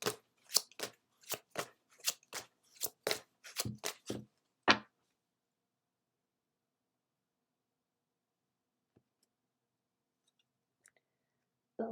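Oracle cards from a Moonology deck are shuffled in quick crisp riffling bursts for several seconds, close and clear, followed by long near-silence with a couple of faint taps.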